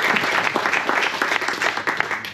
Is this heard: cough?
no